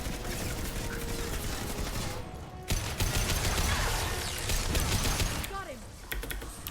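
Mass Effect 2 firefight with bursts of gunfire and clattering mechanical noise running throughout, loud and dense over a busy game soundscape, with a brief lull partway through.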